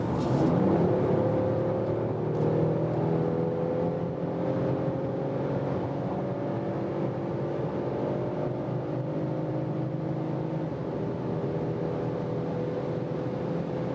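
A 2021 Mercedes E-Class All-Terrain crossover wagon accelerating hard from about 120 km/h, its engine note climbing steadily under loud road and wind roar, heard from inside the cabin.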